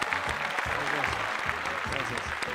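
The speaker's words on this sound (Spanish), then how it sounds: "Fuerte el aplauso para Jean-Louis, por favor" Applause from a studio audience on a Spanish-language TV variety show, dense and steady for the whole short span, with a voice speaking over the clapping.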